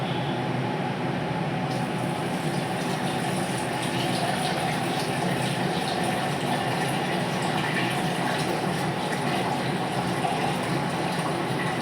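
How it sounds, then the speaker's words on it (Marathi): Water is poured into a pot of cooked dal already seasoned with turmeric, spices and salt, making a soft, continuous splashing and filling sound that runs steadily for about twelve seconds at low volume. "मी तुम्हाला जेवढं पाणी लागतं तेवढं टाकून घ्यायचं"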